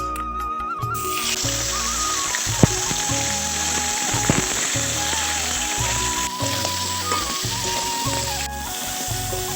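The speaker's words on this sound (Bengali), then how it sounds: "মাছটা এবার ভাজা হয়ে গেছে" Crab frying in hot oil in a pan for a crab curry, a steady dense sizzle that carries on throughout with occasional small pops, close and fairly loud, with no talking.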